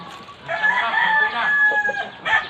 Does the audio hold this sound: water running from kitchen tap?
no